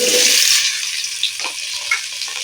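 Turmeric-coated potatoes hit hot oil in a kadai with a loud, bright sizzle that then settles into a steady hiss, broken by a few soft scrapes and pops.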